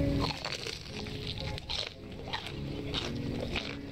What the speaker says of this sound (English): Last I remember, fries don't make crunchy sounds like that.